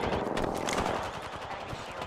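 Rapid bursts of automatic gunfire from a video game shooter crackle loud and close, a dense fusillade that thins into sparser shots toward the end, with no talking.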